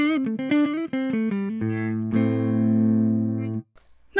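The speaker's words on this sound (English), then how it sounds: "Sounds like a guitar through a clean amp," An electric guitar on its neck pickup plays through a clean amp, a quick run of picked single notes followed by a sustained chord that rings out, then is muted abruptly.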